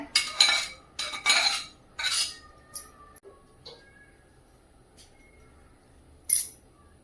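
A metal spoon mixing aloo methi paratha ingredients in a steel bowl, with several bright clinks and scrapes clustered early, then sparse light taps, close by and without talk.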